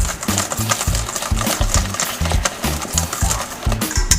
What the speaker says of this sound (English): we're just going to keep going to whisk all the way around